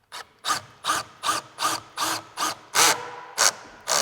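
A power drill works on a wooden staircase railing in short repeated bursts, about nine evenly spaced whirring pulses close by, with brief gaps between each.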